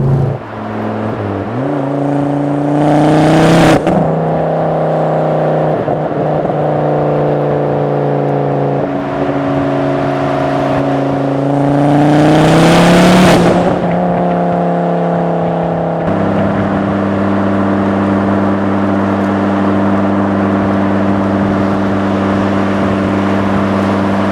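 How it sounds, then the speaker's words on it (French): A Ford Focus RS MK2 five-cylinder engine drones and revs loudly and steadily, with brief sharp exhaust crackles at gear shifts, close and continuous throughout. "Les petits craquements au passage de rapport"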